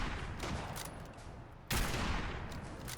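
Sustained gunfire in Fallout 4 during a fight near Far Harbor, a dense rattling stream of shots with a sharp louder burst partway through, moderately faint and without talk.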